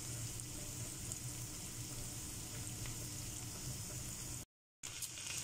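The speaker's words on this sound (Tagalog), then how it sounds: "Ipa-fry lang natin. Hintayin natin magkulay brown." Sardine pasta ingredients fry in a pan, giving a steady, close crackling sizzle that runs evenly throughout and cuts out for a brief moment near the end.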